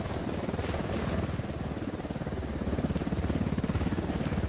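A helicopter in the video game Ghost Recon Wildlands thumps steadily nearby, its rapid rotor beat pulsing loudly through the whole stretch with no voices over it.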